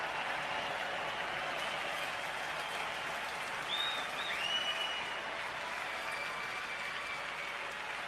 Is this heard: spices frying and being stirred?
no